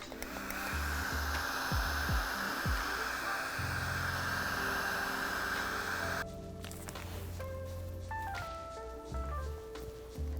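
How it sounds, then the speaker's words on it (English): A bladeless fan blows a steady, close airflow hiss to dry freshly rinsed lash extensions, with the tone shifting partway through as a faint tonal hum and light clicks come in. "Next, I like to use my bladeless fan so it can speed up the drying process."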